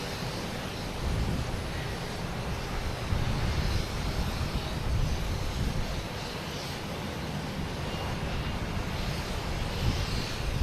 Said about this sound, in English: American Airlines A321 coming in from Dallas Fort Worth